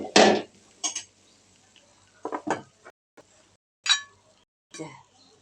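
Fried fish tipped from a pan onto a plate, a handful of sharp metallic clinks and clatters spaced irregularly, separated by near silence.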